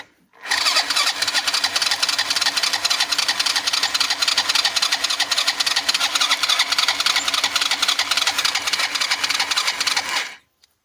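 A Honda Jog scooter engine fires up in freezing weather and keeps running with a steady, loud, buzzing drone for about ten seconds before cutting off, with no talk over it.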